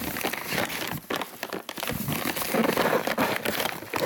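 Plastic bag crinkling and rustling continuously while a fireworks order of firework batteries is unpacked, close and fairly loud, with no talk.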